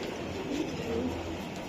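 Pigeons kept for sale, including hammer pigeons, cooing: a couple of soft, brief low coos, faint against a steady background hum.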